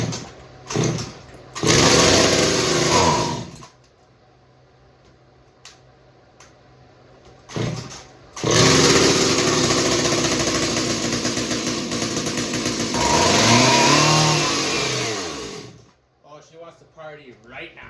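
A small two-stroke gasoline engine mounted on a gas-powered bottle opener, a revived Johnson Red, revs in loud, ragged bursts with brief pauses, then idles and surges again with a sticking throttle before cutting off.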